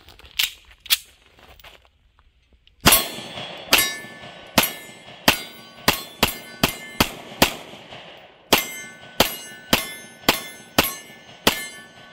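Handgun shots from a magazine kept loaded for ten years, likely +P ammunition: two sharp reports, a pause, then a rapid string of about fifteen loud, ringing shots in quick succession, outdoors and close.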